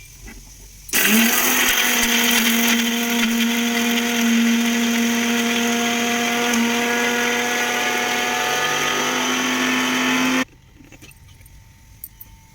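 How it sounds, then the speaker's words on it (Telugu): A mixer grinder whirs loudly at high speed for about nine seconds, grinding spices for chilli powder, a constant droning whine that starts and stops abruptly. "ఇవన్నీ వేసి మిక్సీ వేసుకుంటాము"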